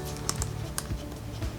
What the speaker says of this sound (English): I usually just use my keyboard.